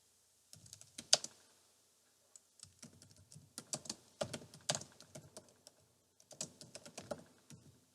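A computer keyboard being typed on in short bursts of quick, close keystrokes separated by brief pauses, with no talking.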